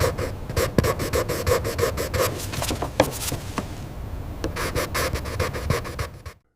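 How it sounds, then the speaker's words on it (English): Pens scratch steadily across paper up close: a busy, rasping scribble that keeps on in quick strokes with no talking. "The only sound in the room is the scratching of pens over paper."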